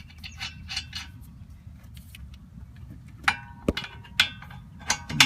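A bolt being loosened on the front brake of a 2007 Toyota RAV4, heard as a series of sharp metallic ratchet clicks and clanks, sparse at first then quicker, over a low steady background hum.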